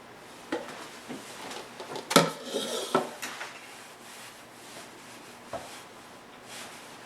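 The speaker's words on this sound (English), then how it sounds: "So I'm going to dump this out onto my floured cutting board. And we're going to knead it just a little bit" Sticky bread dough dumped onto a floured cutting board and kneaded, soft scattered thumps, rubs and a few knocks, quiet and close, with a louder cluster of handling noises early on.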